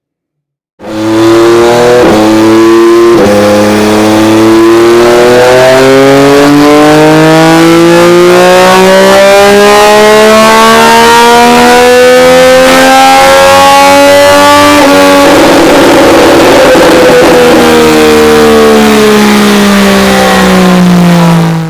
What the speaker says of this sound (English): After a few runs on the dyno and also weighing the bike